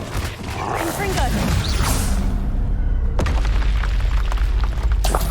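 Confringo fire spell blasting in Hogwarts Legacy, a loud booming burst with whooshing and crackling debris and a sharp second impact, dense game effects throughout with no speech.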